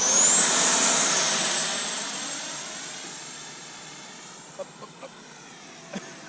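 A foam board F-20 style model jet with a 64mm electric ducted fan at about three-quarter throttle whines loudly past outdoors, its high-pitched roar fading steadily as it flies away.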